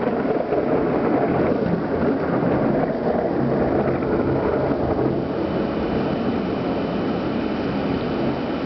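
Thunder from a subtropical thunderstorm at night rumbles as a loud, continuous low roll mixed with wind and rain noise, sustained across the whole stretch with no voices.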